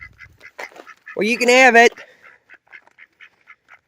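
Geese coming for food give one loud, strained honking call up close, surrounded by softer rhythmic clucks and short calls, with a person speaking briefly.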